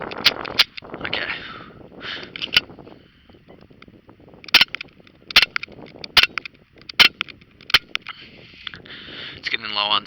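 A Daisy Powerline 5501 CO2 air pistol fires at targets in a series of sharp, isolated pops spaced unevenly apart, mixed with someone talking and some handling noise between shots.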